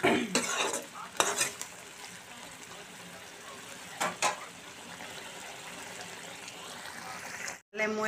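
Pigeon meat cooks in a pan after a splash of water, a soft continuous simmering hiss broken by a few clattering stirs and utensil scrapes near the start and middle.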